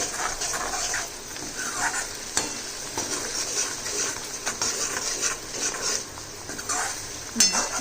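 A mixer grinder jar is swished out with a small splash of water, giving a steady close hiss of sloshing with occasional light clinks against the jar and no voices.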